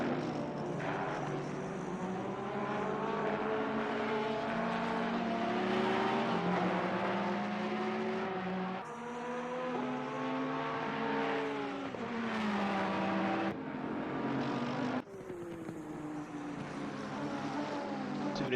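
Racing cars at Zolder circuit passing continuously with layered engine whine rising and falling through gear changes, loud and sustained, with abrupt shifts in tone; no distinct gravel crunch stands out.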